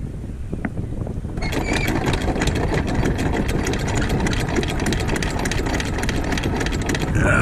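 A sailboat engine running steadily in forward idle offshore, a continuous loud drone with wind, starting slightly quieter before settling into a constant hum.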